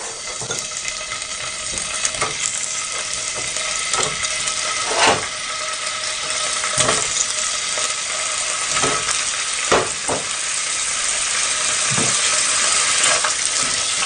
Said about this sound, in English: Now add 1 teaspoon of olive oil. Oil become hot, fry the paneer.